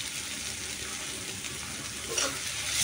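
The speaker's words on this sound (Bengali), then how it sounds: "এগুলো একটু কিছুক্ষণ ভাজা নিব।" Plenty of garlic and onion frying in hot oil gives off a steady, close sizzle that stays even throughout, with a brief stir midway.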